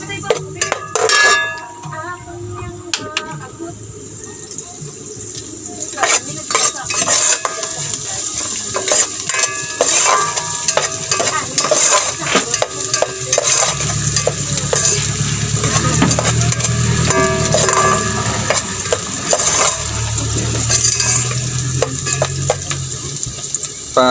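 Garlic and onion sauté in a hot pan for pork sinigang, with a loud continuous sizzle and frequent scraping stirs of a utensil against the pan, close up.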